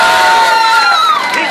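Crowd cheering and whooping greets a band at a February 2015 event in Coyahue, a loud, sustained roar of many voices across the short moment.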